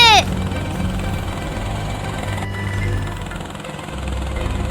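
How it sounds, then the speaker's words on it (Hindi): Cartoon helicopter in flight, a steady whirring engine drone running through the clip after a brief rising effect at the start, fairly close and even. "ये हेलीकॉप्टर में घूमने में तो कितना मजा आ रहा है।"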